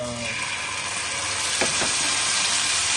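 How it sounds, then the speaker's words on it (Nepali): Steady, loud broadband sizzle of chicken wings frying at home in a hot garlic sauce, continuous throughout with a couple of brief scraping stir sounds midway. "गोल्डन ब्राउन नभएमा चाहिँ हामीले फ्राई गर्छौँ।"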